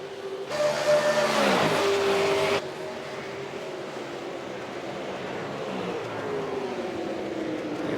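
V8 Supercars racing at Imola in iRacing, the simulated engines roaring loud and close for the first few seconds, then dropping back to a steadier, fainter drone of cars as the pack continues around the circuit.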